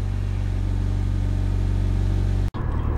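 A car engine on a cold start, heard from inside the cabin, holds a loud, steady low idle drone that cuts out abruptly for an instant near the end before resuming.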